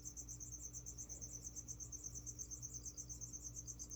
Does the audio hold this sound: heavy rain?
no